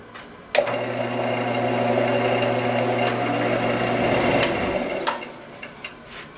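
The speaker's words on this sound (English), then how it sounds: "I can now buff this to a nice sheen with a fresh piece of paper towel." A spalted, crotch-figured maple bowl spins on a wood lathe while being buffed with a fresh paper towel. A steady motor hum and whir runs for about four and a half seconds, then winds down, followed by a few light clicks.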